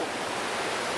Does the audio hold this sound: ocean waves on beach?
yes